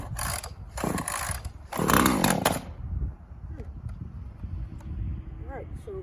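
A small engine pull-started after priming and choke, with several quick ratcheting rope pulls, the loudest near the start, then quieter mechanical clicks, a voice speaking briefly.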